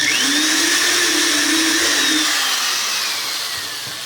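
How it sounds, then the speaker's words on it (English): Power drill boring holes into an acid-free box, a loud whining motor that spins up, holds, then winds down and fades toward the end, with no talk. "we're going to drill some holes in it, 6 holes."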